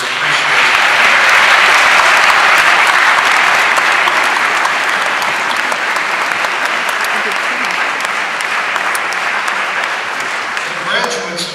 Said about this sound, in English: Class, won't you please join me in applauding all of your supporters and showing them your appreciation